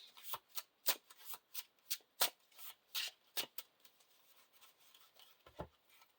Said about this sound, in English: Shuffle these 3 cards back into my deck and draw 3 cards.